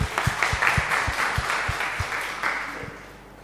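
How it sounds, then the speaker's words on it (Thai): A church congregation applauding at a healing sermon, a dense wash of clapping with a few louder individual claps standing out near the front, fading toward the end. "ให้เราปรบมือหน่อยนะครับ"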